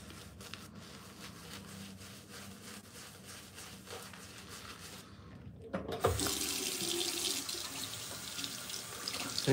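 Tap water runs over a synthetic shaving brush being rinsed in a sink, a steady splash that grows suddenly louder near the end, close and alone.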